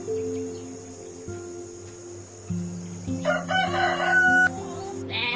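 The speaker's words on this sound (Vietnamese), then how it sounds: "Chicken." A rooster crows with a drawn-out, wavering call that peaks in the middle, over a steady chirping of insects, like crickets, in the background.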